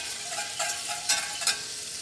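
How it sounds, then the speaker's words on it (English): A sugar-free toffee mixture sizzles loudly in a pan while being whisked, a constant bright hiss punctuated by a few sharper scraping whisk strokes, close and with no voices. "you can hear it sizzling pretty loud"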